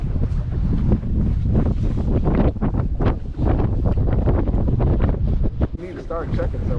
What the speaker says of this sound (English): We're in 20-mile-an-hour gusts